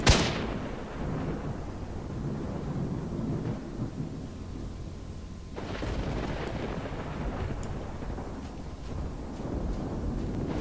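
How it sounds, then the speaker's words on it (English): A gunshot in S.T.A.L.K.E.R. Shadow of Chernobyl, one loud boom at the start that rolls into a long rumbling echo, followed by a fainter crack partway through over steady ambient noise; no speech. "Did you see that shot? That was such a great shot."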